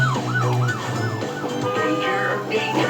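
A toy police car siren wails continuously in rising and falling sweeps, loud and close, with a busy mix of other toy and electronic tones layered beneath it.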